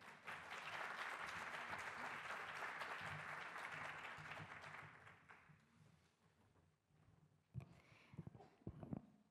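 A seminar audience on ICT in teacher training claps for an incoming speaker, a dense sustained applause that gradually thins and fades out, followed by a few scattered knocks and faint sounds.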